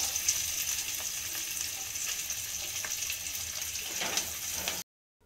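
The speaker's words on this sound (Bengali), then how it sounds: "বেগুনগুলোকে হালকা হালকা করে আমি ভেজে নেব।" Eggplant pieces fry lightly in hot oil, giving a steady, close sizzling hiss with soft crackles that stops abruptly near the end.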